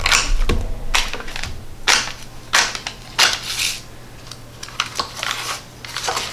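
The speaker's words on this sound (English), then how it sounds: "for the shortening, all I do is kind of cut it in big chunks" Shortening is cut into big chunks for a homemade apple pie crust, giving a series of crisp, close knife taps and chops against a board in an uneven rhythm, with no talk.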